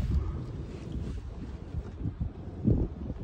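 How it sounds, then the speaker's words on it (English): Wind blows outdoors in gusty, uneven buffets of low rumbling noise against the microphone, close and moderately loud, with a stronger surge near the end. "And it is a bit windy."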